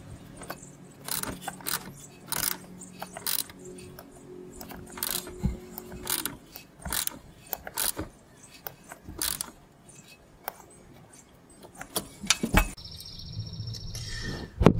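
A ratchet and socket tighten a coolant part on a 2014 Dodge Caravan: quick bursts of close metallic clicking, stopping and restarting, with brief clanks of tools between strokes and a sharper rattle near the end.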